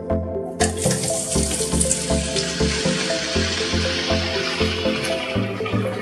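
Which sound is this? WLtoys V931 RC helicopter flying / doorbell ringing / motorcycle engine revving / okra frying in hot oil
okra frying in hot oil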